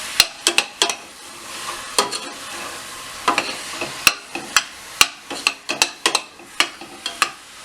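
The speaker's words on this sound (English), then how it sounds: "while the meat is browning on medium" Ground beef and pork browning in a pan on medium heat for tourtière, with a soft sizzle under repeated sharp scrapes and taps of a utensil stirring the meat.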